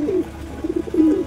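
Domestic pigeons coo nearby in a home loft, a few soft, throaty rolling calls in short bursts with no talking.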